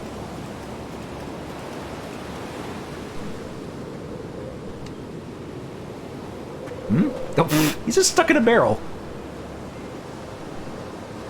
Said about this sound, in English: all that ocean noise